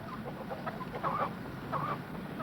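Chickens clucking faintly in a barn, a few soft, short clucks scattered over a low steady background hum, with no one speaking.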